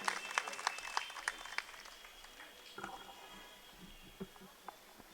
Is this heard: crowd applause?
yes